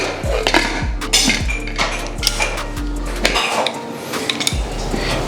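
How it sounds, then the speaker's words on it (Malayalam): A pressure cooker holding elephant foot yam is shut, with a series of about six loud, ringing metallic clanks and knocks at a fairly even pace, close by and with no talking. "കുക്കർ അടച്ച് നമുക്ക് അടുപ്പിലേക്ക് വയ്ക്കാം"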